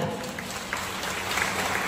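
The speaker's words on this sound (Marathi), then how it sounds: "मीनाक्षी मॅडम साठी जोरदार टाळ्या होऊ द्या" Applause from the audience at a state-level police officers' convention in Pandharpur, honouring Meenakshi madam; dense clapping at moderate loudness, steady for about two seconds with a faint murmur underneath.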